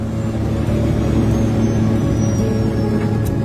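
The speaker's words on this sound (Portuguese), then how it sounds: "Diminuindo o impulso do motor." Aircraft engines reduced in thrust on descent toward a small airport in a mountain valley, a steady loud broadband roar with low hum, continuous without voices.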